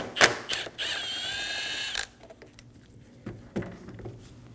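Ratchet loosening 10mm bolts on the radiator fan assembly of a 2008-2015 Scion xB: a quick run of close metallic clicking, then a pause and a few fainter, scattered clicks and taps.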